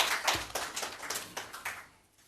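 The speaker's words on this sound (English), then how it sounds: "A round of applause." A small audience at a swearing-in ceremony for the Administrator of the District Assemblies Common Fund applauds the President of Ghana, a faint and thin patter of separate claps that fades out within a couple of seconds.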